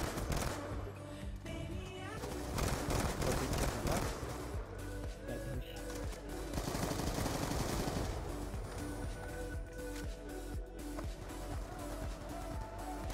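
Dense, continuous gunfire from the Call of Duty Black Ops 2 video game: rapid automatic bursts and scattered shots overlap with game noise and engine-like rumble throughout, and voices may be mixed in underneath.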